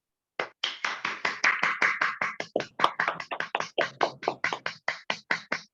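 Audience at a training program applauding for Pramod, a crisp run of about twenty-five evenly spaced claps in a steady rhythm, close and clear with no talking.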